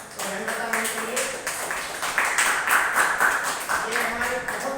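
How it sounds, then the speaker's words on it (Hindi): An audience at an indoor training event claps for a speaker, with steady, moderately loud clapping that mixes with voices. "तो सबसे पहले तो हम तालियां बजाएंगे"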